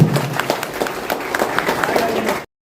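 An audience at a farmers' Kharif meeting claps steadily for local farmers, a dense patter of hands from a sizable crowd that cuts off abruptly.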